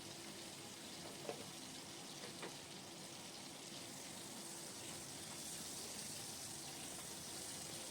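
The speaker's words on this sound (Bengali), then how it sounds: "পরিমাণ মতো নুন আর হলুদ দিয়ে আলুগুলো ভেজে নেব।" Small whole potatoes fry in oil with salt and turmeric, a faint, even, continuous sizzle and hiss with a couple of soft clicks and no talking.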